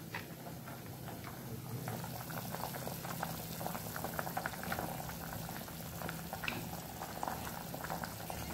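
Marathi village-style curry of brinjal, potato and pavta beans bubbling on a high gas flame in a pot, a steady close simmering hiss with dense small bubbling pops throughout, no voices.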